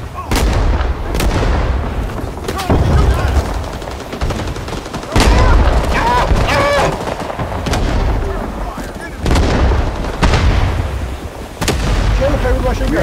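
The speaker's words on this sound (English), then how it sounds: "Hey, hey, grenade!" Loud, close gunfire bursts and heavy grenade blasts from the Vietnam War shooter Rising Storm 2: Vietnam, dense and continuous with repeated booming impacts, under shouted in-game voices.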